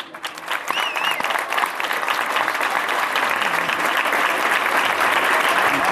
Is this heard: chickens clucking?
no